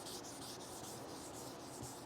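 1000 grit sandpaper rubs back and forth over thick car clear coat in a quiet, even scratching hiss with a faint repeating stroke rhythm.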